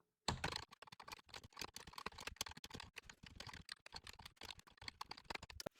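Rapid, steady clatter of a computer keyboard as Rust code is typed in, dense uneven keystrokes close by and fairly quiet, with no talking.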